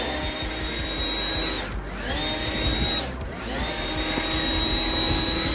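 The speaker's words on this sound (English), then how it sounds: "We have a battery blower." A battery-powered leaf blower clears an autumn road, giving a steady close whooshing drone with a high whine that briefly dips twice, then resumes.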